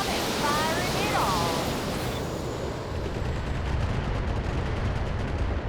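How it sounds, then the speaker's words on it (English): LRM missile salvo firing from a mech in the BattleTech game, a dense continuous roar of launches and blasts with a whooshing streak early on, loud and sustained throughout. "I'd kind of like to just fire our LRMs again"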